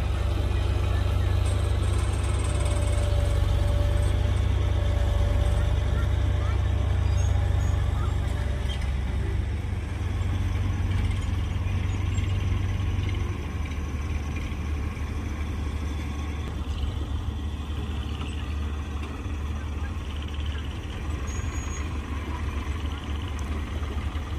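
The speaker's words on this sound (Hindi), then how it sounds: "और दूसरा ट्रैक्टर वहाँ पर लगा हुआ है" A tractor engine idles steadily with a deep, continuous rumble near a chain-type JCB machine. The rumble is loud for the first half and eases slightly after about thirteen seconds.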